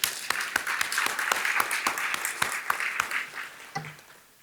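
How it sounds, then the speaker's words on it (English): A room of VIP guests at a State of the City civic event gives a round of applause, with sharp individual claps standing out over the steady wash before it tapers off near the end. "give yourselves a round of applause"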